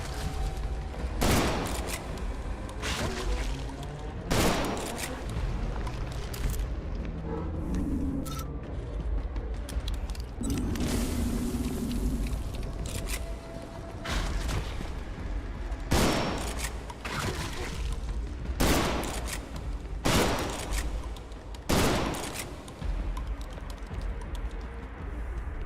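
Shotgun blasts in a retro-style horror video game: a string of sharp, loud reports spaced irregularly across the stretch, standing out over a steady game backdrop with no talk.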